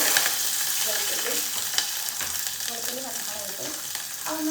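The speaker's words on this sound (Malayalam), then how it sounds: "ഇത് കടുക് പൊട്ടി, ഉലുവ പൊട്ടി, വെളുത്തുള്ളി" Mustard seeds, fenugreek and garlic sizzle in hot oil, a close, steady frying hiss scattered with small pops and crackles.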